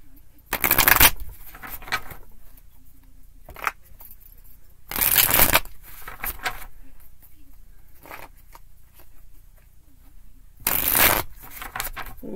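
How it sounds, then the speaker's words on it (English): Three loud bursts of tarot cards being riffled and shuffled, separated by quiet pauses with soft handling sounds. "One more good shuffle."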